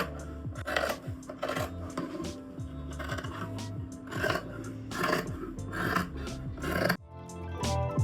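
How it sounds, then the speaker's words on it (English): Scissors cutting pressed linen pattern pieces, a steady series of close, crisp snipping and rasping strokes with fabric rustle in between, ending in a brief shuffle. "I'm going to lay my fabric out and cut the pieces now"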